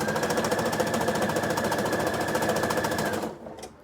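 A sewing machine stitching a gathered, stretched waistband hums in a fast steady rhythm close up, running continuously before slowing and stopping near the end.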